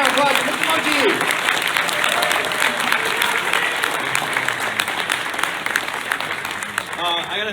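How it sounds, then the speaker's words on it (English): Audience applause at a My Little Pony fan convention, sustained and steady for the whole stretch, with crowd voices and a few shouts mixed into the clapping. "Let's give a round of applause to Mr."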